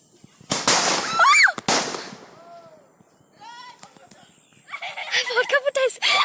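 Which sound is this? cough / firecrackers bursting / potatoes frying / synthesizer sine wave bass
firecrackers bursting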